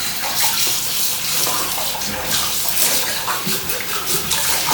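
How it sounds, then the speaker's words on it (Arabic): Steady running tap water gushes loud and close while soapy dishes are rinsed, a continuous splashing hiss with no break and no voices. "اشطف حلو لان الصابون كتير"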